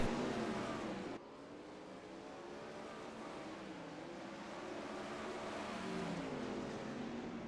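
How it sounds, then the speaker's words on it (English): Winged 410 sprint cars race around Lanier National Speedway, a steady roar of several engines blending at a distance, with a sudden drop in level early on and a gradual swell as cars pass. "that's where you see the 41 car of Logan Rumsey trying to run the top side of the racetrack."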